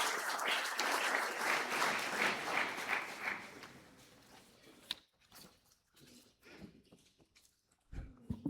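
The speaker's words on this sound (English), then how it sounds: "Honorable Chairperson, can we give him a round of applause," A seated audience at a formal youth engagement event gives a round of applause, a dense clapping burst for about four seconds that thins to scattered claps and light room noise.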